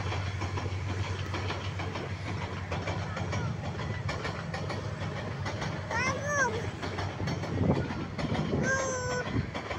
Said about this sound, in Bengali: অনেক বড় ট্রেন।